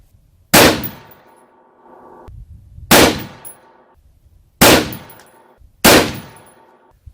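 Four loud, sharp rifle shots from a Desert Tech MDR semi-automatic in 6.5 Creedmoor, fired at a distant target, each a close crack with a ringing decay, spaced irregularly one to two seconds apart.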